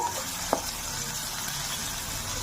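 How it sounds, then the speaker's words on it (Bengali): Chopped onion lightly frying in a pan for aloo dopiaza: a soft, steady low sizzle throughout, with one brief clink near the start. "পেঁয়াজটা আমি হালকা করে ভেজে নেব"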